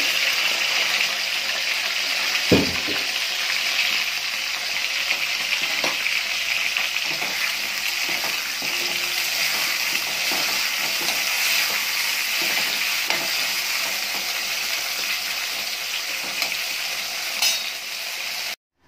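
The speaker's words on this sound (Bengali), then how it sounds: "এবার কড়াই ওই একই তেলের মধ্যে আমি আলুগুলো দিয়ে আলুগুলো ভালো করে ভেজে নেব" Potatoes fry in oil in a wok (kadai), in oil just used for frying pointed gourd. A steady, dense sizzle runs throughout, with a few light stirring knocks and scrapes and no talking.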